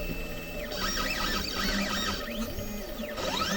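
A Sainsmart Genmitsu 4040 Pro CNC machine's stepper motors sing in rising and falling whining sweeps as the gantry travels back to zero, steady mechanical drone underneath.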